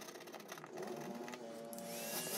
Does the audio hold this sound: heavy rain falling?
no